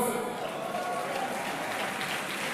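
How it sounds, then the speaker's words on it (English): An audience at an entrepreneurship festival claps in a steady, dense wash of applause for a couple of seconds, even in loudness throughout. "you might wonder why they were slow to clap"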